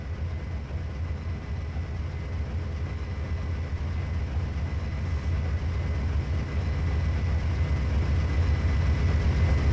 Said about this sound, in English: We'll get a nice view of the train going by here.